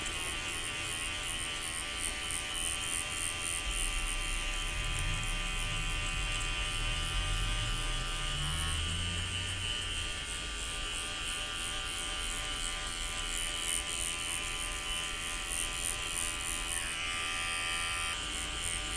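Hair clippers fitted with a 1.5 guard buzz steadily and close up while cutting away weight on top during a mid skin fade, a continuous electric hum with no talking.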